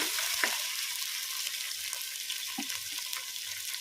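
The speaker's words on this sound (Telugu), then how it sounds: "ఆలుగడ్డలు వేసేసి మంచిగా కలుపుకొని నూనెలో మంచిగా ఉడకనిచ్చుకోవాలి" Potatoes and garlic fry in hot oil in a pan, giving a quiet, steady sizzle with a few soft stirring clicks and no voices.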